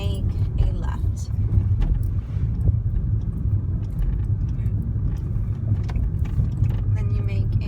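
A car backs up and drives along a residential paper route, a low, steady engine rumble heard from inside the cabin, with a person talking over it.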